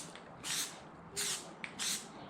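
A spray can hisses in three short bursts onto a Genesis Coupe stock hood vent, each blast close and crisp with brief quiet gaps between.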